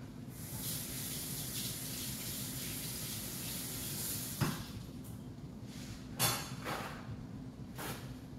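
A kitchen tap runs water while something is rinsed off under it, a soft steady flow broken by a couple of brief splashes or knocks.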